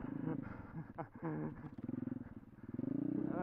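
A pit bike engine revving nearby, rising and falling in pitch with a throaty, pulsing idle, briefly dipping before climbing again.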